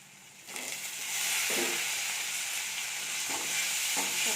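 Onions and tomatoes sautéing in hot oil with red chili powder for a village-style tomato onion gravy: a steady, close sizzle with periodic scraping stirs in the pan, no voices.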